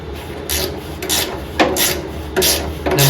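A ratchet ring spanner works a seized bolt on a Bolens Snowcaster 32 snowblower chute, making about half a dozen close, rasping ratchet strokes in an uneven rhythm.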